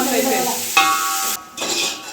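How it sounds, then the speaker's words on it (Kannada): Close sizzling as fenugreek leaves fry in a pan, with a clink and stirring scrapes, a short pause, then the frying resumes. "ಮೆಂತ್ಯ ಸೊಪ್ಪು ಸೊಳ್ಳೆಂಟು ಚೆನ್ನಾಗಿ ಫ್ರೈ ಮಾಡ್ಕೊಬೇಕು"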